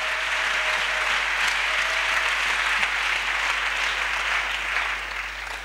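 Church congregation applauding, a dense, steady wash of clapping that fills the room, loud and continuous throughout, tapering slightly at the very end, with a faint sustained tone underneath early on.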